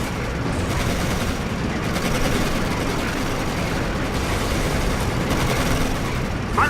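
Dense, continuous gunfire rattles through a World War II tank battle in Codename: Panzer, a loud unbroken barrage of rapid shots and blasts with no letup.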